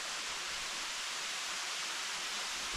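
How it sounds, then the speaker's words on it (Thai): A forest stream flowing past a cliff gives a steady, even rush of water, continuous and moderately loud, with no other sounds. "ผมก็จะมี ลำธารไหลนะครับ"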